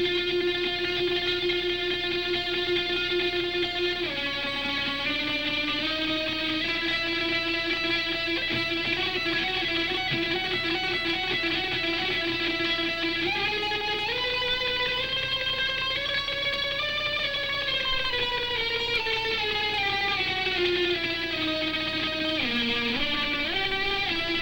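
Rapid triplet-picked and finger-plucked string notes run in a dense, continuous stream, sustained harmonic tones gliding and shifting pitch throughout, played alone at steady moderate loudness with no talking.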